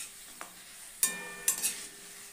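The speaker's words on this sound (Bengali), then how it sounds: "দেখো ভাজা হচ্ছে, তাতেই বোঝা যাচ্ছে।" Potatoes frying in a pan give faint sizzling, with a few sharp stirring scrapes and clinks standing out over quiet background hiss.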